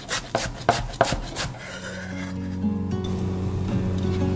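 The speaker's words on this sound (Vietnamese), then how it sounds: "Trước tiên mình cắt nhỏ hành lá này ra để lát nữa mình trộn vào trong bột nha các bạn." A knife chops green onions on a cutting board for mixing into a batter, giving a quick run of sharp, close chops for about a second and a half before the cutting stops and a steady low hum remains.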